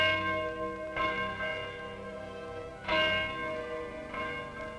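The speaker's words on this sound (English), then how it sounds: "At precisely noon each day, this bell is rung." A church bell tolling at noon, several slow, evenly spaced strikes with long, ringing overtones that hang and fade between blows, moderately distant and alone.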